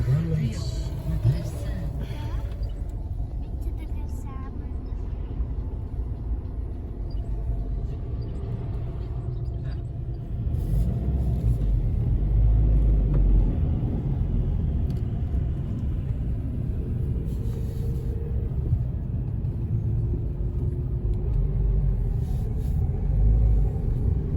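A car crawls through a traffic jam caused by roadworks, with a steady low rumble of engine and road noise that grows slightly louder partway through, and faint cabin sounds alongside.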